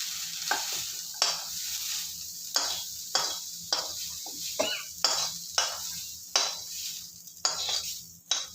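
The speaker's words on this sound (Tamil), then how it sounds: "கல் இங்கே காயிட்டு இதில் மாவில் கொட்டி காட்டுறேன்." Corn batter poured into a hot nonstick paniyaram pan sizzles and fries steadily, broken by repeated short scraping and clinking strokes of a utensil against the pan at a fairly even rhythm, close and clear with no voices.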